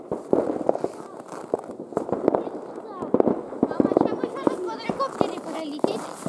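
Sharp firecracker bangs and popping fireworks crackle irregularly from a distance at New Year's midnight, with people talking over the outdoor noise.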